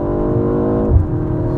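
A 2025 BMW M135 engine pulls hard from inside the cabin, a loud steady rising drone that breaks briefly at a gear change before building again, with no talking.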